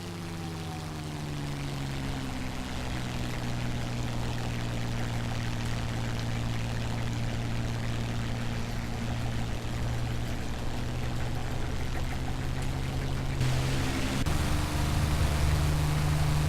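Steady propeller engine drone of a P-51D Mustang in a flight simulator during a loop, a continuous loud hum with harmonics that shift in pitch late on as power changes, with no talking.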